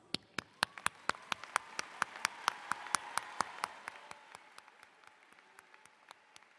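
Applause from a university commencement audience: steady, rhythmic handclaps that build and then gradually thin out and fade.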